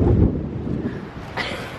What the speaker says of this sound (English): It is so windy out here, guys.